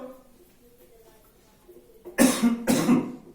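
Two loud, close coughs in quick succession after a quiet stretch of low background murmur during a physics lesson.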